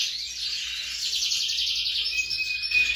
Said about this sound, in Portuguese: Quando eu começo a falar, os pássaros começam a cantar bem alto.